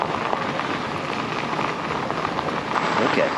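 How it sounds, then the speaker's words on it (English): Steady rain patters down outdoors along a bikepacking trail, a dense close hiss of drops hitting surfaces that holds level throughout, with no voices. "it's raining, it's sprinkling."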